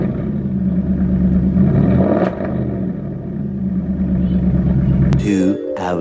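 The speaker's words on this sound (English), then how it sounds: "This is with valves closed. Open them up. And now give it a rev." A cheap exotic car bought from Copart revs with its exhaust valves open, a loud, rough, pulsing rumble that swells and holds, then cuts off abruptly near the end while a voice speaks over it.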